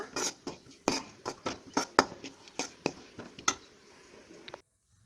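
A utensil stirring onions sautéing in hot oil with asafoetida in a pan for a Tamil radish kootu. A dozen or so sharp, uneven clanks and scrapes ring against the metal, then stop abruptly.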